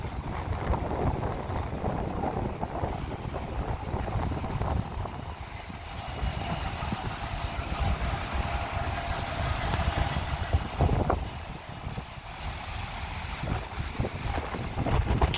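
Strong wind in Porto Alegre roars steadily against the microphone outdoors as rain begins, a constant broad rush with gusty swells and no speech.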